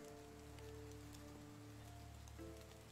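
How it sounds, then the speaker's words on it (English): Rain falling in the open-world survival game Medieval Dynasty, a soft steady patter of drops on surfaces, quiet and continuous with faint low game ambience beneath. "it's raining"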